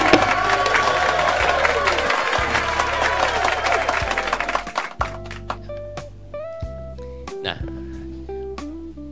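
A burst of dense clapping from a crowd fills the first half, then fades out as music tones continue.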